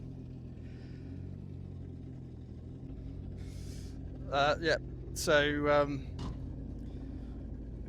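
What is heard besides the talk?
boat engine running while being flushed with detergent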